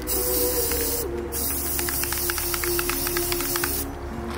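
Spray paint hisses steadily through a taped cardboard stencil onto a tombstone, with two short pauses in the spraying and faint clicking from the can under the continuous spray.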